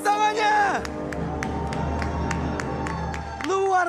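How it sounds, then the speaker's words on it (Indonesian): A live esports crowd at MDL Arena, Perbanas Institute, claps and cheers for a Mobile Legends match, with steady applause, rhythmic claps and a commentator's voice at the start and end. "Mana tepuk tangannya?"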